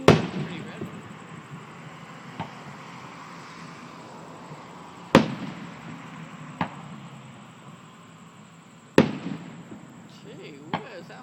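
Three loud, sharp booms from an early Fourth of July fireworks show at Briarwood Country Club, each followed by a long fading rumble and a faint crackle, with people talking quietly between them.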